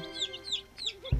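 Chickens cluck and peep in short, high chirps, with a brief low thump at the end.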